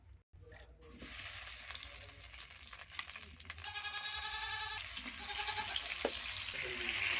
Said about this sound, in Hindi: आलू भाजिया तेल पकईदेवा।